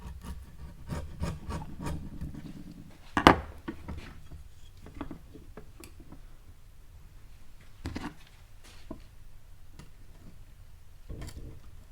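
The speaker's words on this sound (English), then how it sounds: "Trying to avoid chiseling right off of that edge. Trying to keep this nice and flat going across it." A chisel pares a wooden furniture edge flat, giving faint, close scraping and rubbing strokes with scattered light taps and a sharper knock now and then.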